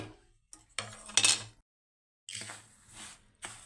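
Roasted ajwain seeds being scraped and transferred from a pan onto a plate, a few short metallic clinks and scrapes of a spoon against cookware, separated by brief silences.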